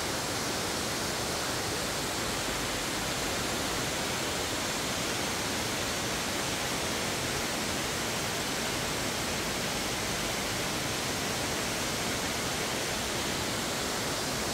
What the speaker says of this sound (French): Les deux dernières cascades.